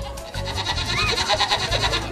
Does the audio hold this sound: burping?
no